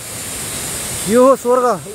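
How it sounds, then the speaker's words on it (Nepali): The Jhage Chhahara waterfall in Babai village gives off a steady broadband rush of falling water, and a voice speaks over it toward the end. "एकदमै राम्रो झरना।"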